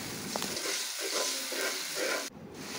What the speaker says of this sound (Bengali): মশলাগুলো ভাজা হয়ে গেছে, আমি এখন এই মশলার মধ্যে সামান্য পানি দিব